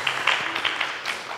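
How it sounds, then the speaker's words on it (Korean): Brief, moderate clapping from a congregation in a Baptist church, a short burst of scattered hand claps that thins out quickly. "박수 부탁드립니다."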